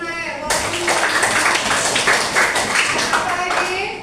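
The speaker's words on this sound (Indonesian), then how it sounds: "Tepuk tangan dulu untuk Nael." A classroom breaks into clapping for a student: dense, fairly loud applause from many hands that starts abruptly and carries on for about three seconds, with a voice speaking just before it and faint voices underneath.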